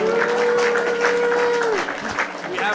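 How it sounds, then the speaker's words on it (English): A podcast studio audience claps in a steady, even wash of applause, joined by a sustained musical tone that fades partway through. "Let's give a round of applause."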